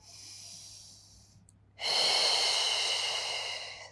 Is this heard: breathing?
yes